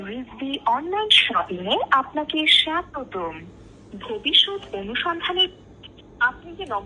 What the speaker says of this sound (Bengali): কি কলার টুন বাজে আপনারা খেয়াল করবেন